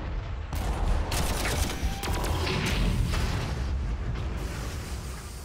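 A tank destroyer opens fire on infantry in the Warhammer 40K Armageddon strategy game, a dense, continuous barrage of booming shots and rumbling impacts filling the whole stretch at steady loudness.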